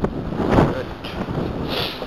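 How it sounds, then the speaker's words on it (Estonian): Strong wind blows outdoors, a rough, loud rumble buffeting the microphone continuously for a couple of seconds. "Nagu näete, on räme tuul."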